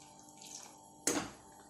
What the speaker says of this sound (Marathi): आपण थोडं पाणी सोडून घेऊ